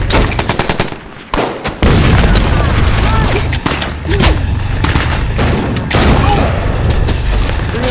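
Gunfire and grenade explosions erupt in a film battle on sea ice, with dense machine-gun bursts, booming blasts and brief lulls, loud and close throughout.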